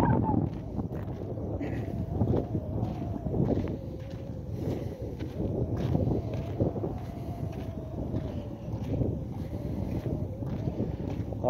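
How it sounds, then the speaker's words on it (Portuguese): Wind buffets the microphone in a steady rumbling roar throughout, outdoors by an irrigation canal in the dry backcountry, with faint gusting variation and no clear speech. "O vento está zoando."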